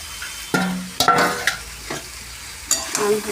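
Meat sautés in a pan, a steady sizzle broken by several sharp scrapes and clatters as a spoon stirs and turns the pieces, loud and close.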